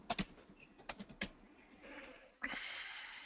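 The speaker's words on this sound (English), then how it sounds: "I will type username." Someone types a username on a computer keyboard in an office training session: a quick run of close key clicks, then a pause and a softer burst of noise near the end.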